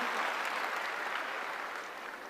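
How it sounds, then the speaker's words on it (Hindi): An audience at a Delhi success-day event breaks into dense, continuous applause, a loud wash of many hands clapping together that eases slightly toward the end. "जोरदार ताली हो जाए"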